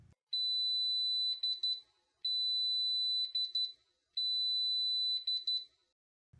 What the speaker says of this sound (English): When the timer beeps, the instrument will read the sample and the result will be displayed.